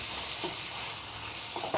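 Chili powder and turmeric get stirred into a tomato masala frying in a karahi for Kashmiri aloo dum, with a steady broadband sizzle and a few soft spatula scrapes, close and alone without voices.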